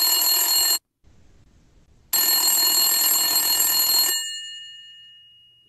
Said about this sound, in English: He's not answering this phone.